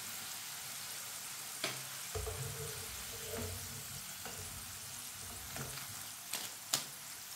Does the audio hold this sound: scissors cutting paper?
no